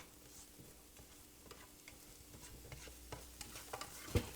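Chopped green onion sautéed for shrimp fried rice sizzles quietly while a utensil stirs and scrapes the pan in light, irregular knocks that grow busier toward the end; no one speaks.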